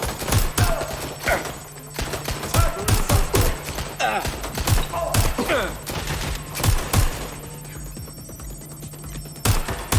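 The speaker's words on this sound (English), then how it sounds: "Suspect has opened fire." Sharp gunshots ring out at irregular intervals during a police shootout in Watch Dogs: Legion, loud and close over a faint steady background tone, with some shots in quick pairs.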